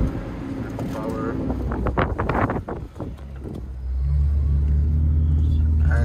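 A 3.8 V6 car engine with only suspension modifications drives hard over desert dunes. The engine roars and rumbles loudly, mixed with buffeting wind noise and brief voices, then settles into a steady, heavy drone.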